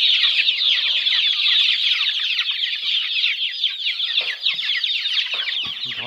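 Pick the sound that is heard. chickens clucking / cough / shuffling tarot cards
chickens clucking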